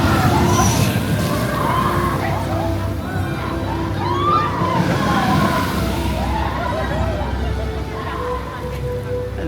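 Water churns and sloshes at a theme park water ride at Epic Universe: a steady, broad rushing wash with a crowd's murmur and scattered voices mixed in throughout.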